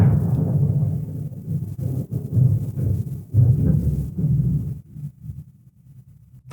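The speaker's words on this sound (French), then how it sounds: "t'entends l'orage?" Deep, rolling rumbles of thunder swell and fade in waves, with a quiet lull near the end.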